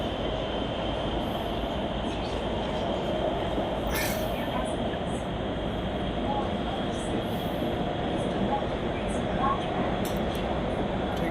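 Interior of a moving passenger train in China, with a loud steady rumble of wheels on rails and a brief high squeal around four seconds, continuous throughout.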